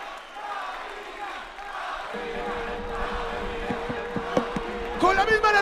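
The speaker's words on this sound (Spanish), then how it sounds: "¡Más fuerte el aplauso!" Crowd at a Colombian FMS freestyle rap battle in Cali clapping and cheering, a dense, steady roar of applause that swells near the end under a host's loud shouting.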